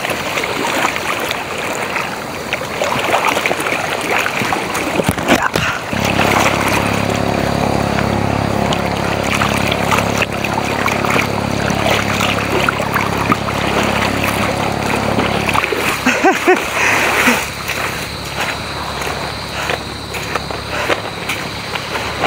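Heavy waves slosh and splash against a fishing boat at sea, a steady broad wash of water over a low droning engine hum, with a sharper thump of water near the middle.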